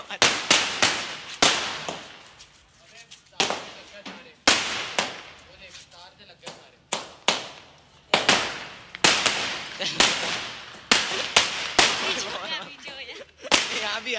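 Repeated sharp firecracker bangs and fountain fireworks at a wedding procession, loud and close, burst at irregular intervals, with voices and crowd noise in between.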